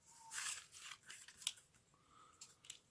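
Scissors snipping through card for a handmade magic box gimmick, several short crisp cuts close up with a pause between bursts, quiet and without talk.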